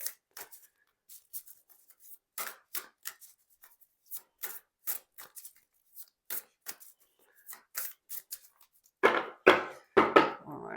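A deck of tarot-style cards is shuffled by hand, giving a run of quick, close riffling and rubbing bursts in an uneven rhythm that become denser and louder near the end, with no talking.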